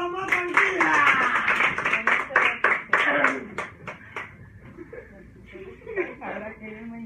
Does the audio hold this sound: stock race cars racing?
no